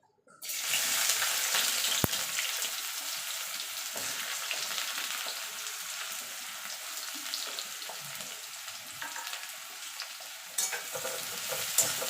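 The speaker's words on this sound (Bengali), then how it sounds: "এবার পেঁয়াজটা আমি ভেজে নেব।" Onions go into hot mustard oil to fry for an egg dish. After a brief silence, a strong, even sizzle starts and holds steady, with occasional spatters and a faint clink, and no one speaks.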